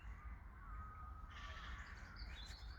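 A magpie calls outdoors with harsh, rasping chatter that grows busier in the second half, set against steady low background noise.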